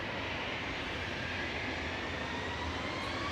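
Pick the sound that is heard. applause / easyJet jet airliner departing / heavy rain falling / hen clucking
easyJet jet airliner departing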